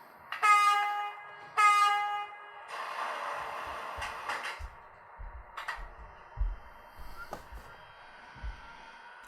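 An H0-scale LS Models Flixtrain Vectron model locomotive starts up: two loud horn-like tones, then a whirring hum with faint clicks and knocks, heard close and alone.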